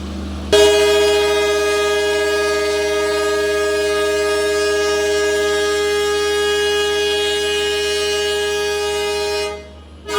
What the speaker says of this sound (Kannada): ಆಂಕಿಂಗ್ ಏನು ಗುರು, ಈ ಪಟ್ಟಿಗೆ ಜೋರಾಗಿ ಕೊಡ್ತಾ ಇದ್ದಾರೆ